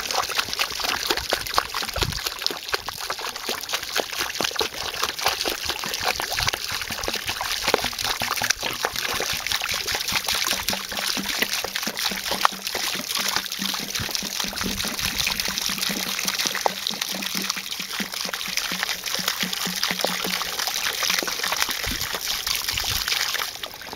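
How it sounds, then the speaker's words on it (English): A gallon of red food coloring dye is poured out outdoors, giving a steady, loud splashing, trickling water sound that runs unbroken throughout. "Okay, we're gonna add the dye."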